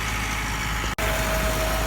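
A Massey Ferguson MF 385 tractor engine runs with a steady, close, droning hum, broken only by a very brief dropout midway.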